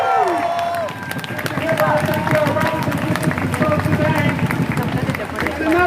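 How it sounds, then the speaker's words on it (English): Crowd at a Free Palestine street rally breaking into steady applause with scattered cheers, a loud, sustained patter of clapping mixed with crowd babble and voices calling out. "Big round of applause for him,"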